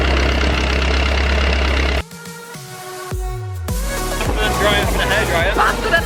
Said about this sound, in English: So we took these speedboats down the river.